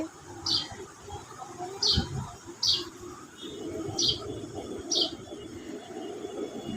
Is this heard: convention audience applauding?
no